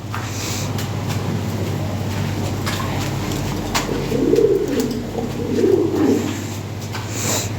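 Pigeons, including Lahori and fancy breeds, coo in low, throaty bursts over a steady background hum, with the cooing swelling louder around the middle of the clip.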